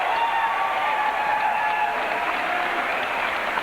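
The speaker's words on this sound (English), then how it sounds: "And listen to this crowd." A crowd at a 1999 Regina vs Manitoba football playoff game cheers and applauds in a dense, steady roar that holds at full strength for several seconds, with no voices standing out.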